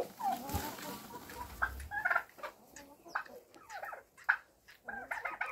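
A farmyard tom turkey gobbles and calls in short bursts several times, close by, among other fowl, with no talking.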